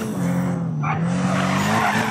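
Tires squeal in a sustained skid as a car drifts in the Need for Speed racing game, with a steady engine drone underneath, loud and close throughout.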